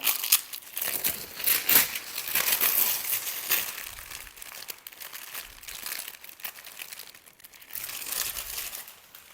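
Plastic wrapping crinkling and crackling as it is pulled off a cricket bat, loud and close, with irregular bursts of rustling throughout and brief pauses between handfuls.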